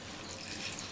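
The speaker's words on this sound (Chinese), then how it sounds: "放入热水" Hot water poured into a cast iron pot, a steady splashing gush that stays even and fairly soft for a brief moment, heard alone.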